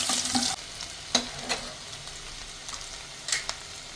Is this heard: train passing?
no